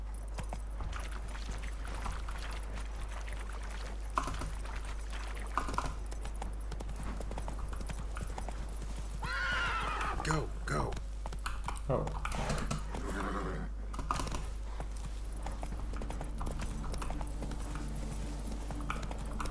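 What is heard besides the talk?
horse Roach galloping in video game The Witcher 3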